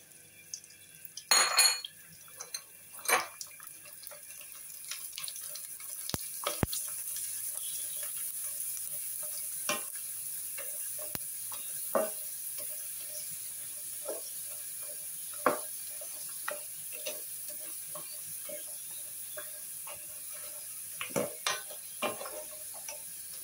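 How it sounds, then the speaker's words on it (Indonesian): Shrimp crackers frying in hot oil, a steady sizzling hiss throughout with scattered clinks and scrapes of a utensil stirring in the pan, one louder clatter near the start. "Oke, sekali goreng lagi."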